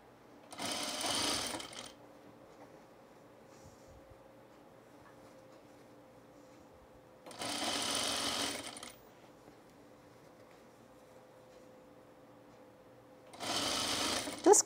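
Domestic sewing machine stitching an inner shirt cuff to the inner sleeve at a 5/8 inch seam allowance on a men's shirt, running in three separate bursts of about a second and a half, with quiet pauses between them.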